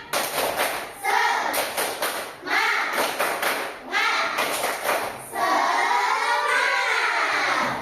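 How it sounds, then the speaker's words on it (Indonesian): Classroom of children doing a rhythmic spirit clap (tepuk semangat) in an Islamic studies lesson, bursts of patterned unison claps alternating with chanted young voices, loud and close, ending in a long shouted chorus. "Yuk, tepuk semangat."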